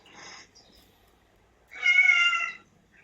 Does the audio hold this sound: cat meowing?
yes